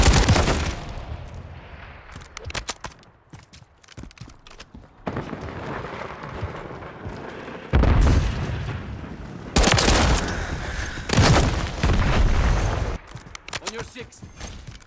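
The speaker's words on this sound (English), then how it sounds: "Grenade out! Thermite! Stun grenade!" Several heavy booming blasts from grenades in the video game Call of Duty, mixed with gunfire, arriving in loud bursts between quieter gaps, with a voice heard shouting among them.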